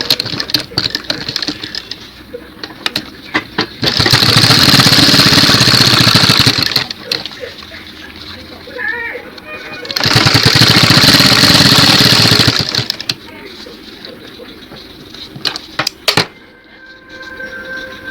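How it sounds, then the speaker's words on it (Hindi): A sewing machine stitches a jeans jacket in two loud, steady bursts of rapid whirring about three seconds long, separated by quieter handling noise and clicks. "यहाँ से सिलाई मारिए।"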